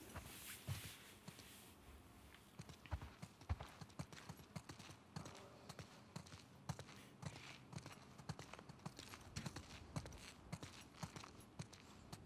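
Horse hooves in the video game The Last of Us Part II clip-clop in a quick, uneven walking rhythm, fairly close and crisp, with faint background ambience and no clear speech.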